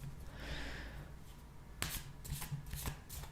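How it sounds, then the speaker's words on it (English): Klimt Tarot cards shuffled by hand up close, a soft papery rustle followed by several crisp riffling snaps, quiet and alone with no talking. "I'm going to give the cards a little bit of a shuffle."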